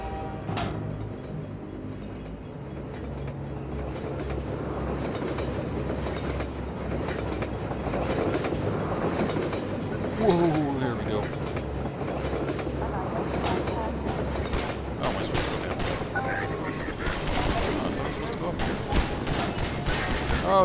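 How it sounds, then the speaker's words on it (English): Video game train rumbling past with rolling clatter and rattling bursts over a steady low drone for about twenty seconds, while a player talks over it. "Oh, the train!"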